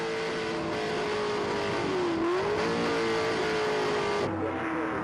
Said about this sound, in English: Oh, hear those motors.